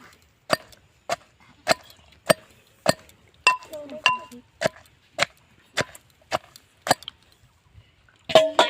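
Jujube fruits are crushed in a village-style bor makha preparation, giving about a dozen sharp, evenly spaced woody knocks, close and distinct against near silence.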